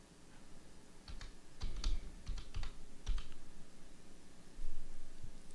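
Typing on a computer keyboard: quiet, close keystroke clicks come in short irregular bursts with brief pauses between them, heard alone without talk.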